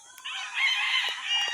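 Straight-breed gamefowl chickens at a backyard coop, a single loud nearby crow rising and holding for over a second.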